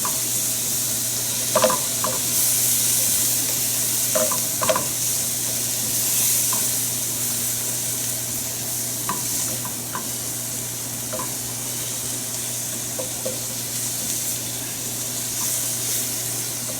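Pork and apple sauce simmering down in a pan, a soft steady bubbling hiss under a low hum, with scattered small clinks and taps, no talking.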